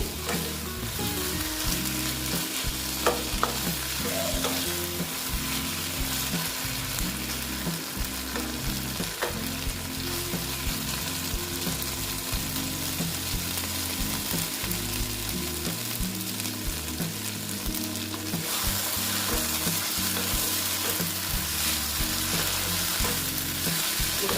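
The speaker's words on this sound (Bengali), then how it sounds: "অল্প কষিয়ে নিচ্ছি" Taro stolons (kochur loti) sauté in oil in a pan for a vegetarian dish made without onion or garlic, a steady loud sizzle running throughout with scraping stir strokes over a low humming background.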